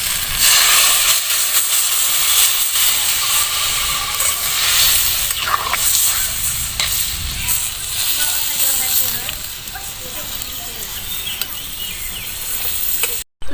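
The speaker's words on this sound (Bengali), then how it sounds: "ঝোলটা ভালোভাবে ফুটে উঠেছে" A thin village-style magur catfish curry broth boils vigorously in a pan, a loud, steady bubbling hiss and sizzle that continues unbroken before cutting off abruptly at the end.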